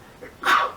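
A single short sneeze, a quick soft intake followed by a sharper burst of air.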